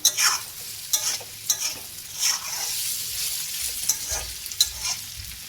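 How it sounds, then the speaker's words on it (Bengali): Radish slices stir-fried in a pan, a rhythmic run of spatula scrapes over a constant gentle sizzle, close and fairly loud. "আমি আস্তে আস্তে ভেজে নেব"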